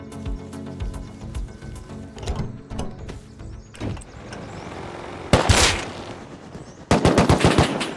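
Gunfire rattles in the survival video game Rust, with bursts of rapid automatic shots and single cracks over mechanical rumbling, growing louder and denser toward the end with two sharp volleys.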